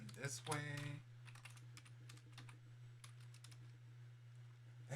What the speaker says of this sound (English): Let me just type this in this way.